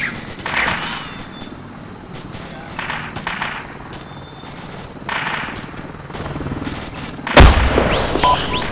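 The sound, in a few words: frag grenade explosion with gunfire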